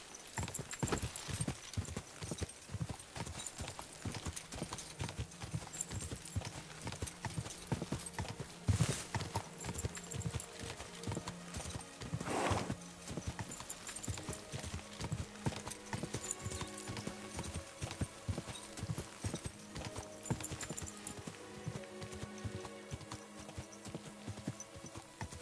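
Horse hooves in the video game Kingdom Come Deliverance 2 pound out a steady galloping rhythm throughout, loud and close, with one or two brief louder knocks along the way.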